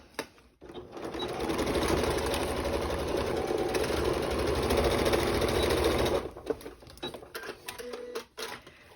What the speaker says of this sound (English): And we're going to sew away.